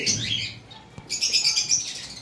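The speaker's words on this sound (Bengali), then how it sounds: "তারপর এখানে এক পেয়ার পাইনাপেল কোনোর রয়েছে" Pineapple and sun conure parrots kept as a breeding pair, giving bright shrill chirps and tweets in two bursts, one at the start and a louder run after a short lull, close by.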